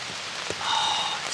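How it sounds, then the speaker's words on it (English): Steady rain falling through woodland leaves onto a tent hisses softly and closely, with a gentle patter building slightly partway through, no voices. "you can hear the shushing of the rain through the leaves, and then it starts gently on your tent"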